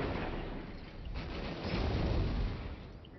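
A missile fires and explodes during a raid in a sci-fi shooter game, a low, rumbling boom that swells through the middle and fades, heard over a muffled, steady background.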